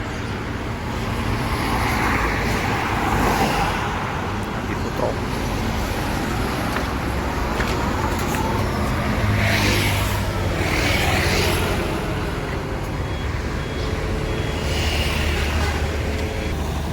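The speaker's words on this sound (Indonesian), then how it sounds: "Ada Fitrans, itu bus lintas." Road traffic roars steadily past on a busy roadside, with a broad engine and tyre wash that swells around the middle as a Fitrans intercity bus and other vehicles go by, moderately loud and continuous.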